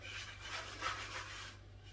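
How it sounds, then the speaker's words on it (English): Microfiber cloth rubbing down the action of a Beretta 694 shotgun during cleaning, a steady close scrubbing swish lasting about two seconds, alone with no talk. "just rub that down and look at the dirt that's come off there"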